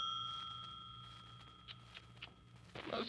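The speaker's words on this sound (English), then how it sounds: "Hannay, your phone's ringing." An old telephone bell rings in a radio drama, a thin, steady metallic tone with bright repeated strikes, faint and alone before a brief louder clatter at the end.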